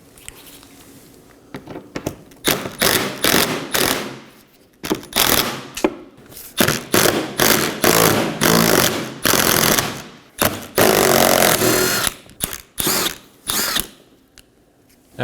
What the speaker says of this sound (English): we're going to locate 5 10mm screws and remove those as well